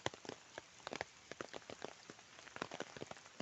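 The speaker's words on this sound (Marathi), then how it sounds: "प्रवास करत असतानाच मध्येच पाऊस आला म्हणून आम्ही मध्येच थांबलेलो आहे" Rain patters on an umbrella during a stop on a climbing road, a faint, close, irregular tapping of drops.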